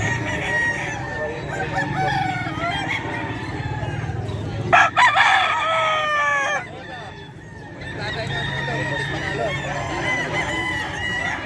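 Roosters and chickens at the Bocaue pet market: one loud rooster crow rises in the middle over a steady din of clucking fowl, with market chatter and voices running underneath throughout.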